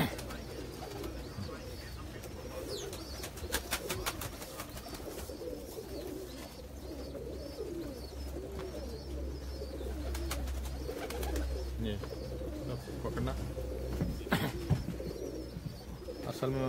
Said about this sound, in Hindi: असल में बहुत ज़्यादा कबूतर हैं